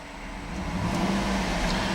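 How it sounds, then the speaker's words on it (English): A silver 2008 Cadillac Escalade ESV AWD engine rising from idle into a rev, a low steady drone that builds in loudness, heard alone without voices. "I'm going to rev the engine."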